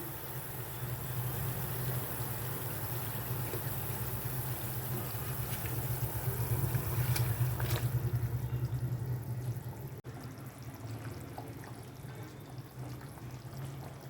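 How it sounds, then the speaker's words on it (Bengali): Water is poured into a simmering hilsa fish curry with potatoes, producing a faint steady gurgling pour that swells in the middle and then fades to a quieter bubbling, with no talking. "দিয়ে দিচ্ছি পরিমাণ মতো জল"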